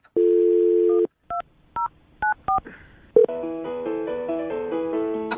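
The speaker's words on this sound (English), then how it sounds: "I'm going to dial her phone number right now" A steady telephone dial tone, then five short keypad beeps in quick succession, followed by a melodic ringtone.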